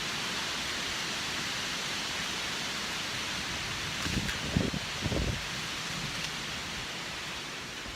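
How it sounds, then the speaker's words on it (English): Strong wind rushing steadily through jungle canopy, a dense constant roar with a few brief thuds and rustles partway through. "I think we're getting a bit of wind"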